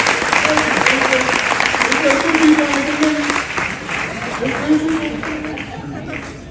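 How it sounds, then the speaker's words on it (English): Applause from a live event crowd for the volunteers and committee who organised it, a broad clapping wash with a loud voice talking over it throughout. "give all the people, the volunteers who pulled this thing together, a round of applause"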